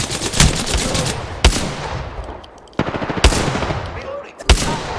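Gunfire in a shooter video game played on a cheap portable gaming PC: loud bursts of rapid automatic fire broken by several sharp, heavy single blasts, close and dense, with no talking.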